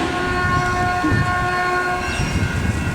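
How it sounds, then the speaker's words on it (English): Northbound Caltrain pulling into a station, its horn sounding loud and sustained over the low rumble and rolling clatter of the train, close and without talk. "And now coming into the station is that northbound Caltrain"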